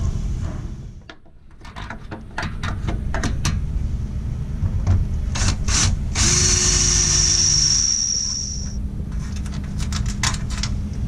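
Quarter-inch through bolts with locking nuts are fitted through a catamaran deck for solar panel mounting, with clicks, taps and ratcheting mechanical sounds, plus a sustained high whirring tone in the middle, all close by.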